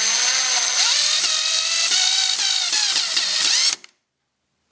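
A power drill pre-drills holes in plastic or plexiglass, giving a loud, steady high-pitched whine with a slight rise in pitch as it bites, held for nearly four seconds before cutting off abruptly into silence.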